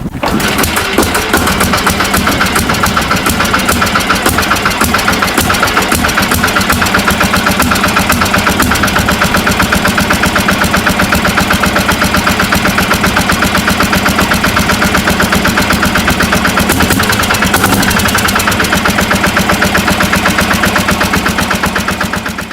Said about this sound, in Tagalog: ang tunog ng kanyang makina ay ganito